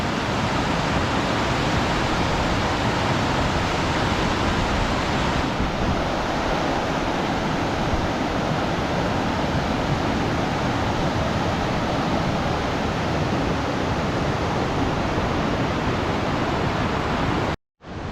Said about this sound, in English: the roar of the water is intimidating